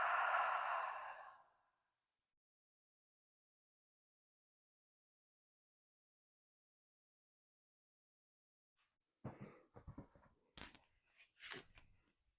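Deep breathing in a 90/90 position, a long breathy exhale at the start fading into near silence, followed by a cluster of short, sharp breaths, sniffs and soft clicks close to the microphone.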